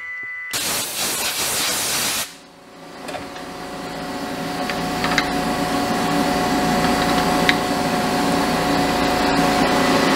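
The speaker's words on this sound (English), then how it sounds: "Milling the backside produced some really large and very satisfying chips. It's certainly moving the material quite quickly." A milling machine cuts the backside of a metal handle. A loud burst of cutting noise is followed by a steady hiss and whir of the spindle, with occasional small clicks.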